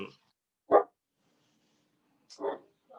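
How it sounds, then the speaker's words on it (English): A dog barks twice in the distance, with a couple of sharp, separate barks rising over a quiet room and long silence between them. "There's a dog, yeah."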